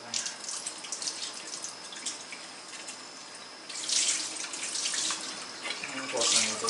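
Tap water runs into a kitchen sink while a small bowl is rinsed, a steady broadband rush that swells louder near the end, with no talk over it.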